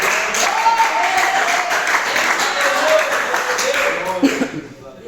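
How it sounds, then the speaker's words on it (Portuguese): Church congregation applauding during a worship service, a moderate wash of clapping mixed with voices and reverberant room sound, fading toward the end. "Isso, pode aplaudir ao nosso querido Jesus."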